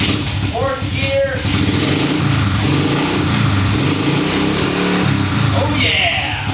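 A big-bore Honda CT90 Trail 125 engine accelerating up through the gears, with rising revs, shift dips and a loud, close drone, while a voice talks over it at points.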